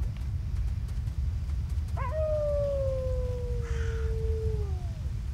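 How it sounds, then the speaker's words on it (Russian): A dog howls in the S.T.A.L.K.E.R. Lost Alpha video game near a swampside village, one long falling howl rising over a steady low ambient rumble, moderately distant. "Собака, ёптись."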